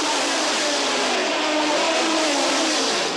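Can-Am race cars roar away together from the green flag at Mosport Park in 1984, a loud, dense wall of engine noise that swells as the pack accelerates.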